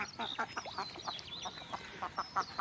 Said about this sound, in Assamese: এই খেতিৰ ভিতৰত হাঁহ সোমাই আছে